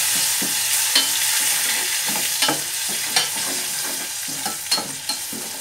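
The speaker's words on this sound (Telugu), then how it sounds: "ఈ మసాలా కింద అడుగంటకూడదండి, బాగా వేగాలి. కానీ అందుకోసం ఇలా కదుపుతూనే ఉండాలి." Masala paste for a soy chunk curry made without onion or garlic fries and sizzles steadily in a pan while a spoon stirs it in repeated scraping strokes, close and fairly loud with no talk.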